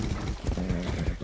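Horse hooves clip-clop in the video game Far Cry 6, a close run of irregular, hollow thuds over a steady background bed with no talking.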